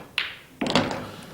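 In a men's pool semi-final, the cue tip strikes the cue ball and it then cannons onto the yellow, giving two short close clicks a fraction of a second apart with a slight rolling tail.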